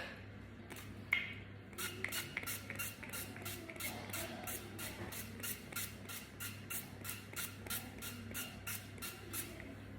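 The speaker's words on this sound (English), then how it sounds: "And some oil spray." Short bursts of cooking oil spray hissing in a rapid, steady rhythm, close and fairly quiet, following a couple of isolated sprays at the start.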